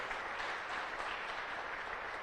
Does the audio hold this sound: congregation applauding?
yes